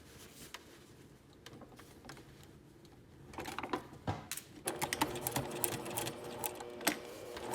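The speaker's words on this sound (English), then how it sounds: "we're going to sew it all the way down with 1/2 inch seam allowance, back stitching at both ends" A sewing machine stitches a shirt yoke seam with a half-inch allowance, quiet at first and then running in bursts of rapid close mechanical clatter, with no voices.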